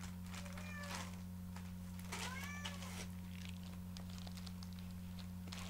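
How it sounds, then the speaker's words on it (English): A house cat meows a few times indoors, drawn-out rising and falling cries spaced a second or so apart, fairly faint over a steady low electrical hum and light background noise, with no talk. "my cat out of here because she's been meowing the whole time"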